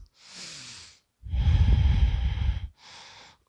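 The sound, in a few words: deep breathing during yoga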